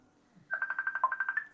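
A phone notification chime plays mid-sentence during a live talk, a quick run of about ten bright, even tonal pulses lasting about a second, fairly close and alone, after a moment of near silence.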